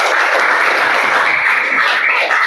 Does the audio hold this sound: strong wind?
no